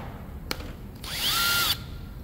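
A power drill backs screws out of a transmission valve body plate, one short whirring burst that winds up and down in pitch, with a faint tap just before it and quiet workshop background around it.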